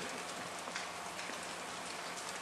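Rain falls steadily outdoors, making a dense, even patter of drops on surfaces that runs throughout, faint and alone with no voices.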